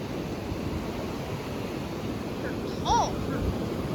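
Large ocean waves at high tide by the sea at Avon surge in a steady broad wash of surf mixed with wind buffeting the microphone, and a brief voice rises over the noise.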